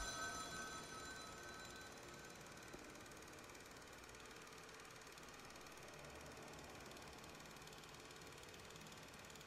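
A telephone rings in the game The Town of Light as a faint, steady, tinny ringing that continues without pause over a low hum.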